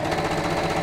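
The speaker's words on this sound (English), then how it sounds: "I'll just sew over that on my sewing machine" A sewing machine runs steadily, stitching down a chenille bag in a rapid mechanical chatter that stays close and even for the whole short moment, with no talk.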